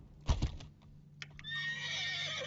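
A horse neighs in the video game Mount and Blade 2 Bannerlord, with a couple of short snorts and thumps first, then a bright, sustained whinny that carries to the end, fairly quiet overall with no talk.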